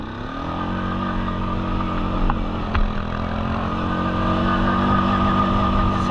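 An ATV four-wheeler fitted with big 29.5 Outlaw tires drones steadily nearby, its engine holding a loud, sustained roar that swells slightly as it scoots along.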